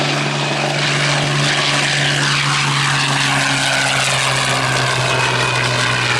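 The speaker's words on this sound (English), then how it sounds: "And here's one of them, this Spitfire 1A." A Spitfire 1A fighter flies past at Duxford Air Festival, its loud piston engine giving a continuous propeller drone whose pitch shifts gradually as it passes by.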